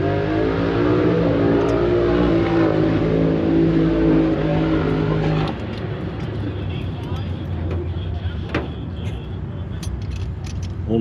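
The engine of a Ford Fairlane race car drones loudly at the track. It steps down abruptly to a rougher, lower rumble partway through.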